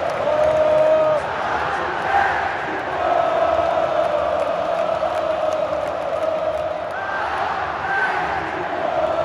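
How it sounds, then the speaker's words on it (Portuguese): A large football crowd at the Libertadores final between Athletico and Flamengo at Arena da Baixada cheers and roars at full time, a loud, dense, sustained wall of voices with scattered shouts and whoops rising above it. "Acabou o jogo e a torcida aplaude."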